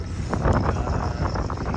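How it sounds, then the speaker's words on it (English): Wind blows dust around outdoors at an airport, buffeting the microphone with a continuous low, rumbling roar and gusty surges. "The wind's been blowing the dust around"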